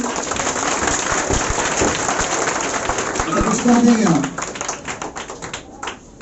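Applause for matric board exam toppers at a 2021 coaching institute felicitation, a steady dense clapping from a crowd mixed with murmuring voices, loud and continuous throughout.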